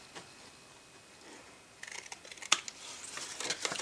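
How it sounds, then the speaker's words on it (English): Scissors cut the paper flaps off a gift card holder made on an envelope punch board, a few quiet crisp snips and paper rustles close by, growing busier toward the end. "So now what we're going to do is we're going to cut the tops, cut these little flaps off here."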